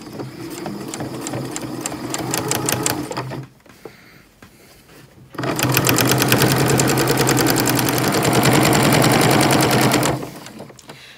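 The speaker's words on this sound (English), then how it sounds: "The last step, top stitch." A sewing machine top stitches a bucket hat with a loud, fast, rhythmic whir. It runs for about three seconds, goes quiet briefly, then runs again for a longer even stretch before stopping.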